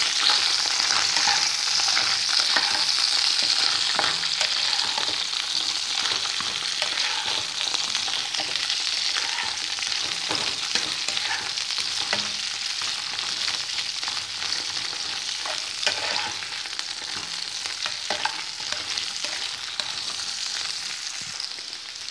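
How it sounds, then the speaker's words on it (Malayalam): Cut okra frying in oil, a steady close hiss and sizzle running throughout, with frequent light spatula scrapes and stirs. "ഈ വെണ്ടയ്ക്കായി നല്ല പോലെ ഒന്ന് ഫ്രൈ ചെയ്തെടുക്കാം"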